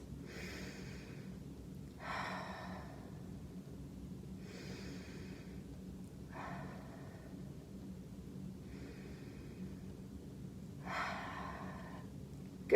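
Slow, deep breathing from a person doing a seated chest-opening exercise: about six soft, airy inhales and exhales spaced a couple of seconds apart, close and quiet over a low background hum.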